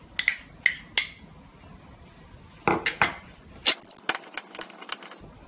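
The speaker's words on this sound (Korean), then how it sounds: "Donc il faut bien mélanger avec la sauce." Utensils mix a Serrano ham and pea salad with sauce in a bowl. Sharp metallic clinks and scrapes come in irregular bursts, close and clear, with quiet gaps between them.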